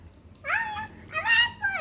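A cat meows close by, three short rising-and-falling meows in quick succession with brief pauses between, over a quiet background.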